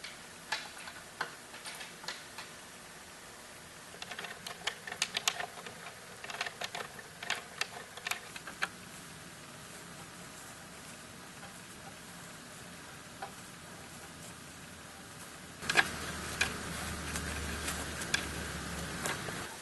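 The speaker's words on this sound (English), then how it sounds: "we will begin the process of putting the bolts in." Bolts being fitted and tightened while assembling a wooden basket bench indoors, heard as irregular small ticks and clicks, sparse at first, then busier clusters, with a brief louder rustle near the end.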